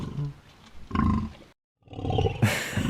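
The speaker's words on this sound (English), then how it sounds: "That's a lion." A lion's roar played as a sound effect: a loud, rough growling roar, broken by a brief silence and then a second bellowing roar that swells and rumbles to the end.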